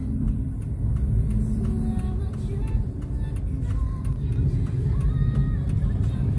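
Road traffic on Jalan Ir. H. Juanda in Ciputat, South Tangerang, a congested Jakarta–Bogor route, gives a steady, dense rumble of engines and tires with passing vehicles close by.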